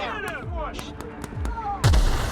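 Gunfire in The Outer Worlds, a fight to help the captain: several sharp shots in an uneven string with a heavier blast near the end, over a busy game background with voices and music.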